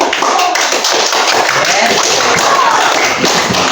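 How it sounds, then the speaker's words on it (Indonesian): Third-grade children in an elementary school classroom applaud a student group, a loud, dense burst of many small hands clapping together, with voices mixed in throughout. "Tepuk tangan dulu untuk kelompok"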